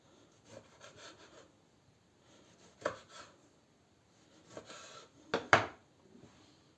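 Several dry cutting sounds of a knife slicing tomatoes onto a board, in scattered irregular bursts with quiet pauses between, close and fairly faint.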